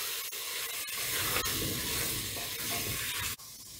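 Spices and turmeric frying in a pan, a dense continuous sizzle with a few sharp spoon knocks, close and fairly quiet.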